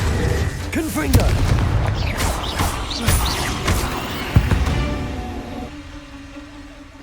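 Confringo blasting spells explode one after another in the video game Hogwarts Legacy, with several loud booming bursts and crashes through a busy battle mix that fades toward the end.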